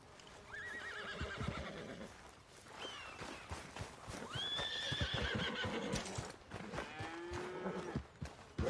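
A horse neighing and whinnying in the video game Red Dead Redemption 2, several drawn-out calls across the stretch, fairly close, with no talking over them.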